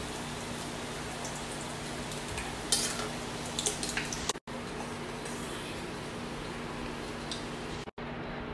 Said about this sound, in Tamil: குட்டி குட்டி உருண்டைகளா பண்ணி எண்ணெயில பொரிச்சு எடுத்துருங்க